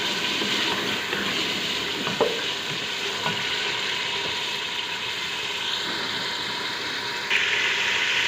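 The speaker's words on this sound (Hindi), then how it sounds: "अब हम चिकन को कम से कम 10 से 15 मिनट तक अच्छी तरह इसमें भूनेंगे" Chicken fries in masala for a chicken chana dish with a loud, steady sizzle and occasional clicks and scrapes of stirring, with no voices.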